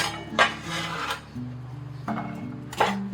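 A knife slices fresh ginger on a cutting board, a few scraping strokes and knocks spaced unevenly, close and clear with no talking.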